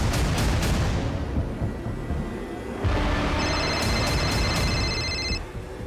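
An electronic phone ringtone chimes in repeating bursts over a loud, rumbling background noise, fairly faint and somewhat distant.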